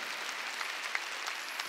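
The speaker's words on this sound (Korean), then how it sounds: "박수야 박수 쳐야죠." Congregation clapping during a Sunday worship service in a church, a dense, steady wash of many hands applauding together at moderate distance.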